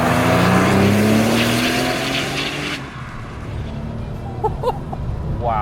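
A RUF BTR2 sports car engine roars as it accelerates hard, rising in pitch through the gears, then drops away abruptly to a quieter rumble with a few brief chirps near the end.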